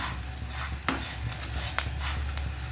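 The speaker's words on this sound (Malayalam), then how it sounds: "മുതിര നന്നായിട്ട് കണ്ടോ പൊട്ടി വരാൻ തുടങ്ങി." Horse gram dry-roasting in a pan and starting to pop, a steady faint rustling stir with a few sharp little pops and clicks scattered through, no talking.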